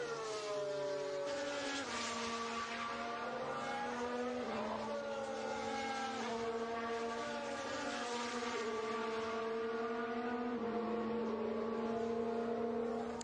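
Formula 1 cars from practice at the 2021 Spanish Grand Prix, high engines whining steadily with pitch that climbs and dips across overlapping passes, a continuous loud mechanical drone from start to finish.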